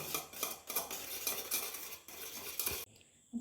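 A spoon clinks and scrapes steadily against a bowl while stirring ground ice apple mixture for ice cream, close and fairly loud, stopping abruptly near the end.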